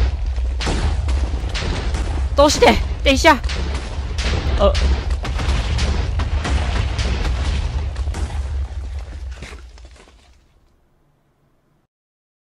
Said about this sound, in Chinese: 为什么会突然爆炸？